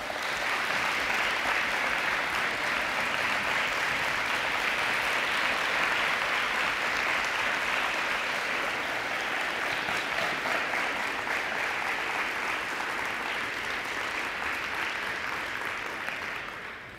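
A high school audience gives sustained applause honoring military veterans at a scholarship ceremony, a steady, full wall of clapping lasting many seconds before tapering off at the end, with no talk.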